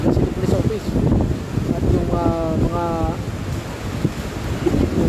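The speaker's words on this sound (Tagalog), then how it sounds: "Yan yung hangin ni Rolly dun sa ano communication tower ng Naga City Police Office." Super Typhoon Goni's wind roars around the communication tower of the Naga City Police Office in the Philippines, a loud, gusting rush that buffets the microphone, with a brief voice partway through.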